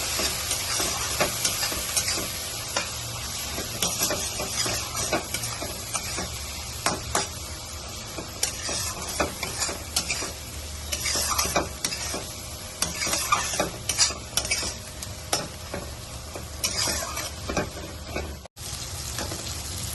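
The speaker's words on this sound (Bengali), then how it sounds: "মশলা এখানে ভালো মতন কষানো হয়ে গেছে" A spice masala of chilli, coriander and cumin powders fries in oil for a parshe fish mustard-paste dish, with steady close sizzling and frequent scraping stirs and no voices.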